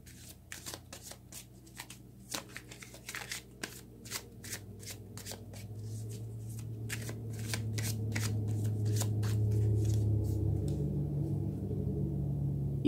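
Tarot cards are shuffled close up in a series of crisp, rapid riffles and slaps, giving way to a softer continuous sliding shuffle with a low background hum, and no voices.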